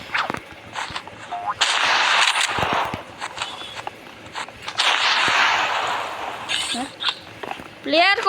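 Sharp sniper shots crack out in the video game Rivals, several loud reports spaced apart amid game effects while a player talks over them.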